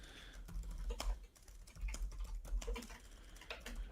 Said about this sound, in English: the first time I can hear a keyboard